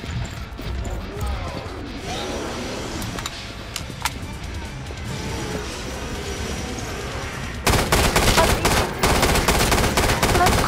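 Kalashnikov rifle fire in the Killing Floor 2 shooter, a chaotic run of close gunshots under game voice callouts, growing denser and louder for the final few seconds.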